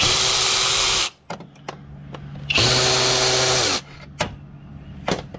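An electric ratchet removes AC compressor bolts on a 2006 Honda Pilot, giving two loud sustained whirring bursts separated by sharp clicks and clanks of tools and bolts, with a few short clicks after.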